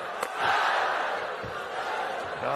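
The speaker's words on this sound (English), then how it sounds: "Crowd getting into it." Spectators at a classic badminton final between rival doubles pairs raise a steady roar of cheering, loud and sustained throughout, with a few sharper shouts rising out of the crowd noise.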